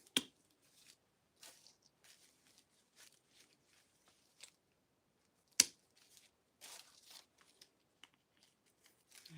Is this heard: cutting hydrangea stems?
yes